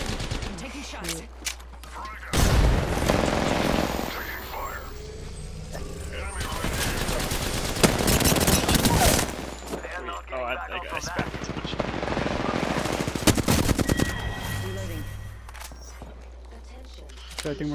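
Heavy Apex Legends gunfights, with dense automatic fire and loud bursts that come and go in waves across the stretch, while players talk over the shooting.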